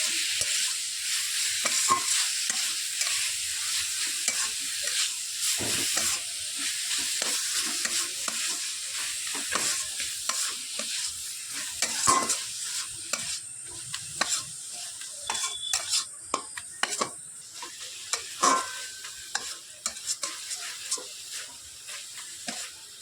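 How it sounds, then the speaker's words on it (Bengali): A spoon stirs grated coconut and jaggery filling in a pan, producing a soft continuous sizzle with scattered scraping clicks, close by and fairly quiet, with no talking. "নারকেল আর গুড়টা এবার আমি দিয়ে দিচ্ছি, দিয়ে খুব ভালো করে পুরটা তৈরি করে নেব। নাড়াচাড়া করে আমি পুরটাকে রেডি করে নেব।"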